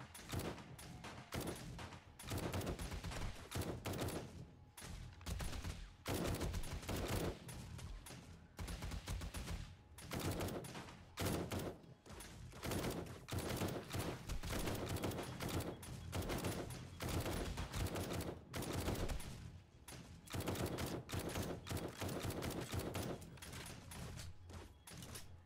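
Dense gunfire rattles almost nonstop through a zombie horde night in a video game, with rapid bursts and single shots packed together, loud and continuous.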